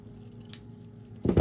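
Scissors cutting craft strips, a short metallic snip followed by a louder crunching cut near the end, close and brief with no talking.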